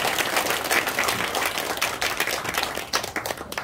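Audience applause at a university social-welfare department's green-village agreement ceremony, a dense, steady clapping from a crowd sustained for several seconds with no talk over it.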